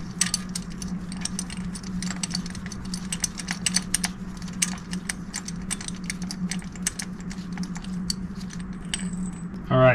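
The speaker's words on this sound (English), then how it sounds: "I'm going to throw in some fresh spark plugs." Fresh spark plugs go into a BMW 633 CSI shark nose engine, with small metallic clicks, taps and light jingling of parts and tools close by, scattered through a low steady background hum.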